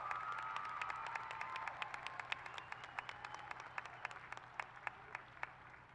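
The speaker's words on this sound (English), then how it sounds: "applaud them as you stand here ready to graduate" Audience applause at a Rowan University College of Education graduation ceremony, a dense, steady wash of many hands clapping throughout, with individual sharp claps standing out more clearly as the ovation thins toward the end.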